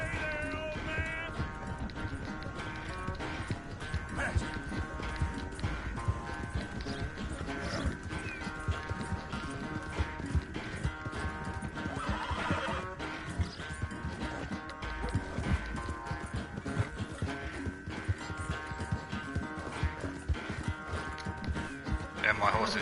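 Horse hooves galloping in Red Dead Redemption 2 during a horse race, a steady rapid clip-clop running under continuous game music and spoken dialogue throughout.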